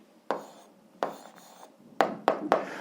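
An answer to an algebra exercise is written by hand: five short, scratchy strokes, close and quiet, spaced irregularly with brief pauses, with no voices.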